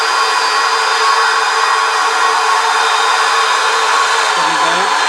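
AL-37 model jet fitted with a Model Sounds Shockwave 3 unit, running at full throttle with a loud, steady, high-pitched hissing whine that holds constant without a break.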